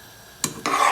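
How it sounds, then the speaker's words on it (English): Rice cooked with lemon and yellow food color stirred in a pan, a short scrape followed by a steady sizzling rush that stays loud through the end, no voices. "And stir"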